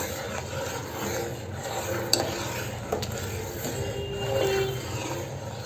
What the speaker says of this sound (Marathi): दुधाला कढी येईपर्यंत तांदूळ शिजेपर्यंत आपण ना ढवळत राहायचं आहे